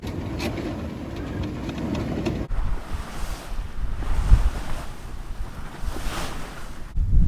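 Ocean waves rush around a sailing boat under way overnight in rolling seas, with steady wind buffeting the microphone, a louder stretch of noise at first, and then irregular washing surges.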